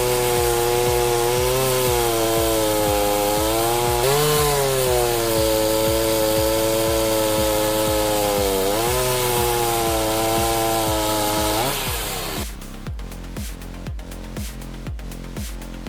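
A chainsaw runs steadily and loudly through wood at a pallet rack cutting station fed by a roller bed, its engine pitch dipping under load, then it shifts into a rougher, choppier cutting sound near the end.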